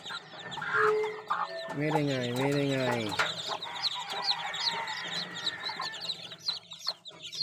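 Newly hatched chicks and hens cluck and peep near a farm, with a rooster-like call rising midway, while someone speaks over the birds.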